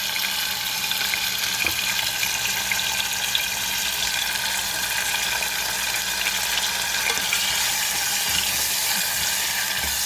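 Beans with ham cubes and sofrito simmer and sizzle in a pot while being stirred, giving a constant bright bubbling hiss with faint scraping, close and without speech.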